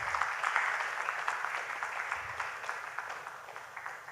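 An audience applauds a secondary school team at a spelling bee, a soft, fairly distant patter of clapping that holds steady and slowly fades over a few seconds.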